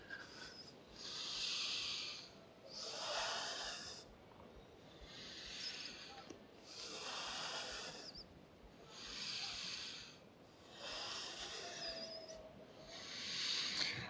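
Slow, deep breathing held in a yoga cobra pose, long airy inhales and exhales alternating in a calm, even rhythm of about seven breaths, close and soft with no talking.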